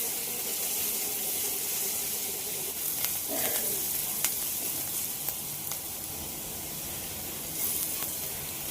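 Chopped onions fry steadily in a pan for a Malvani-style chicken curry, a continuous close sizzle with a few brief clinks and scrapes partway through.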